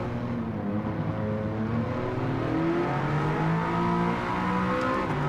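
An Audi TT-S Coupe in Gran Turismo 7 accelerating hard, its engine note climbing in rising sweeps through the gears, loud, steady and close, with no talking.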